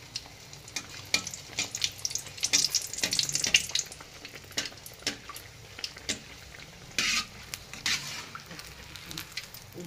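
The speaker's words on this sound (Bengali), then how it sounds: "মালপোয়াটা দিয়ে দিলাম, গলে যাবে, এভাবে তেল দিয়ে করলে ফুলবে।" Malpua batter bubbles gently in oil, a soft, fairly quiet sizzle broken by intermittent light clinks and brief louder spatters.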